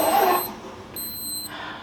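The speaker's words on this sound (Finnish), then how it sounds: "tää piippailee ihan jatkuvasti tää laite tässä" A stove-top device beeps in two long, steady electronic tones with a short gap between them, heard close and alone while yarn is being dyed with mushrooms.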